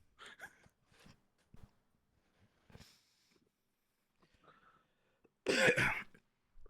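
After a stretch of faint, scattered small noises, a person sneezes once, loudly and close by.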